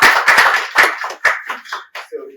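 Audience applause at a tech community meetup on cloud computing and machine learning, a burst of clapping from a room of people that thins out into scattered individual claps over a couple of seconds.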